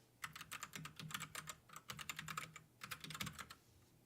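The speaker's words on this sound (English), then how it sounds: "Typing away." Fast typing on a computer keyboard, quiet clusters of crisp key clicks in bursts with short pauses between them, close but low in level, with no voices.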